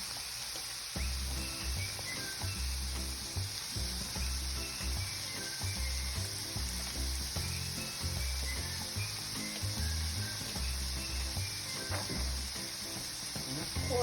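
Shrimp cooks in a pan in a hotel room with a continuous, even sizzle and frying crackle that keeps going steadily close up, with no talk.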